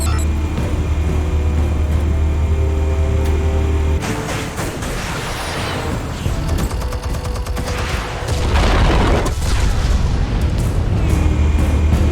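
Explosives detonating in Batman: The Telltale Series, heard as a sustained roar of blasts and rumbling debris, loud and dense throughout with a surge near the end.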